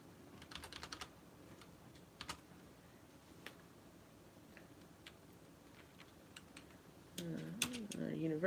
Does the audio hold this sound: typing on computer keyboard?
yes